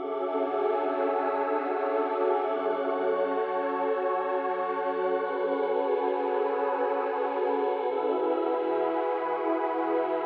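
Lush synth pad patch built in Serum, drenched in heavy reverb, sustaining as a dense, wide chord wash for the whole stretch with slow shifts in the voicing and no talk.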